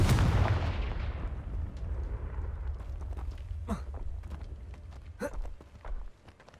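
A Confringo explosive spell in Hogwarts Legacy sets off a loud booming blast that rumbles and fades, followed by scattered crackling impacts and a few softer thuds.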